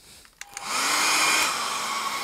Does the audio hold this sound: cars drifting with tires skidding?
no